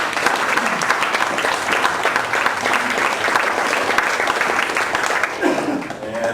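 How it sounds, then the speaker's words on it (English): An audience gives a speaker a full round of applause at a meetup talk: steady, dense clapping from many hands that lasts several seconds and fades slightly at the end. "let's give her another round of applause for Tammy"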